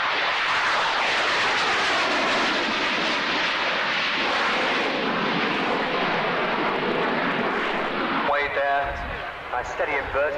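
An electric-thrust aircraft with pivoting nozzles flies at an air display, a loud continuous engine roar close by under a commentator's voice.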